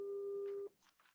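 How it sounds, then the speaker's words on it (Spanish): A telephone signal tone, a steady electronic beep held for over half a second before cutting off, followed by faint indistinct noises in a quiet indoor setting. "Se siente un teléfono, hermano."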